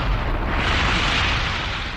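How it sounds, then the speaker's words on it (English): A bomb explosion from a military test film, heard as a sustained roaring, rushing blast that fills the whole stretch at a loud, steady level with no voices. "This film of a military test shows what happens during an explosion."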